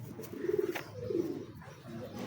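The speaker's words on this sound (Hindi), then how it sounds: "ये उड़ा हुआ कबूतर" A pigeon coos softly and close by, two or three low, rolling coos over about two seconds with quiet background noise between them.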